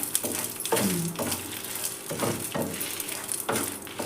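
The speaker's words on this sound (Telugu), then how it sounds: "బాగా వేయించేసుకొని నూనెలో వేయించుకోవాలి" Toor dal and red chillies fry in a little oil with a steady sizzle, broken by several soft scraping stirs at regular intervals.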